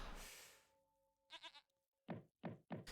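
Several short goat bleats ring out in quick succession, clear and close, after a burst of noise and a faint tonal chime.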